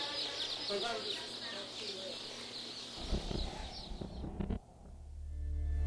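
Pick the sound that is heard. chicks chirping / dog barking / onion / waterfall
chicks chirping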